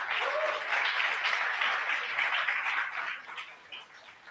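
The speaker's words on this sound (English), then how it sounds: "let's applause for this guy whose name is Bhushan" Applause from a Flutter meetup audience for the live stream organiser, a dense run of hand clapping that holds steady for a few seconds and then tapers off.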